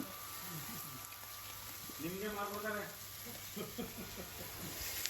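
Steady sizzling of fish frying in oil runs throughout, while people talk over it in a busy setting.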